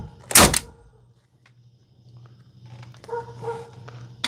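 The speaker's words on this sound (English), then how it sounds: "Now my big dogs are barking, and I wonder what the big dogs are barking about." Large dogs bark outdoors at a cabin build site: one loud close bark burst near the start, then fainter barking and rustling later over a low steady hum.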